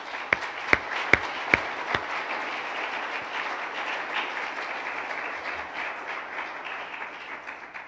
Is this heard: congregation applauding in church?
yes